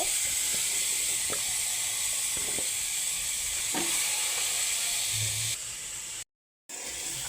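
Spices frying for a vegetable khichuri give a steady close sizzle and hiss throughout, with a few faint clinks of utensils and no talk.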